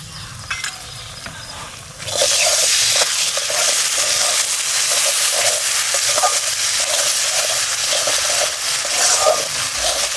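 Tomato paste with Kashmiri chilli powder hits hot oil in a pan and bursts into a loud, steady sizzle after a quieter start, with rhythmic stirring scrapes running through the hiss; no one talks.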